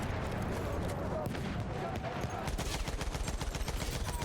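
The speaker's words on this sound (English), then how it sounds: "That was some bad shooting by me." Automatic rifle fire from Battlefield 1 gameplay crackles in dense bursts, turning into a rapid, evenly spaced stream of shots over noisy battlefield ambience, with a voice speaking underneath.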